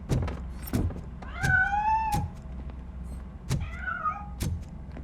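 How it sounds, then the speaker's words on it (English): A cat meows in the Robocop video game, giving two or three drawn-out rising meows spaced over a few seconds among soft thumps and background game noise. "That cat must be hiding inside."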